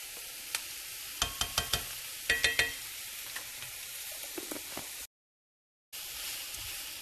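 Minced garlic sizzles and crackles in a hot pan while being stirred, with a run of sharp clicks and taps from the utensil and a brief silent gap near the end.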